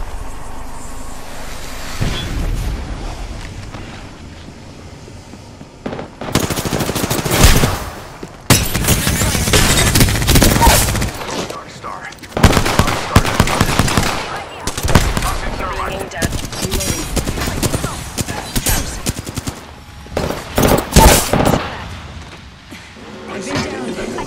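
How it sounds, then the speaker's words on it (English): Rapid bursts of gunfire from the Apex Legends video game come in clustered volleys, loud and close, separated by short quieter gaps with game sounds between them. "They spotted me. I'm taking shots."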